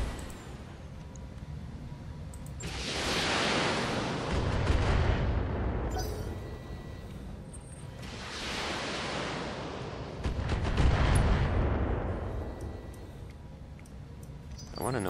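Weapons fire in the BattleTech video game comes as two long rolling bursts of booming, noisy blasts that swell and fade, a heavy rumble under each.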